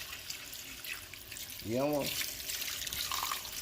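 Purified water poured from a container into a pot of simmering Jamaican oxtail, a soft steady splashing hiss that runs under a man's brief, close speech.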